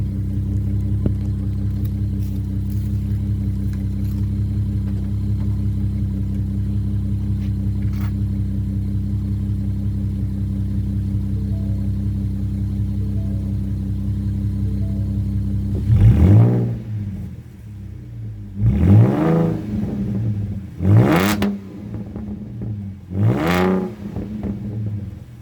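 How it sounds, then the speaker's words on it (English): Ford Mustang V6 from 2017 with its muffler deleted, idling with a steady low drone before several sharp, loud revs climb and fall in quick bursts near the end. "So let me give it a few revs."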